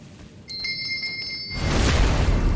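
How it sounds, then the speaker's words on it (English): A bait bell rings in Elden Ring, a few bright metallic strikes in quick succession that give way to a louder rush of noise. "it was a bait bell"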